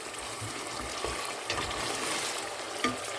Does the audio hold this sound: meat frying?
yes